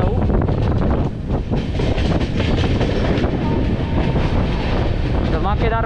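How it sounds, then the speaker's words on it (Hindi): A train arriving at Nashik Road railway station after rain rumbles and clatters steadily as it rolls along, with wind buffeting the microphone and voices faintly underneath. "फिलहाल नासिक रोड रेलवे स्टेशन का अराइवल मैं आपको दिखाता हूँ।"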